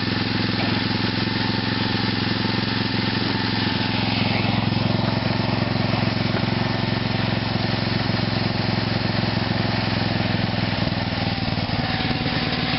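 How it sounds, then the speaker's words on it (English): An OFNA nitro engine idles after carburetor tuning, a buzzing high-pitched small-engine drone running continuously and close, with slight shifts in pitch as it settles. "I got to idle down a little bit farther, but the rod's starting to bounce around now, so it may not stay running"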